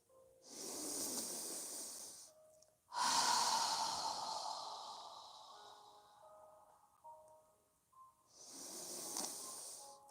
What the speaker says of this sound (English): inhale through our nose and exhale with our mouth open wide